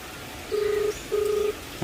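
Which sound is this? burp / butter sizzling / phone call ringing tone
phone call ringing tone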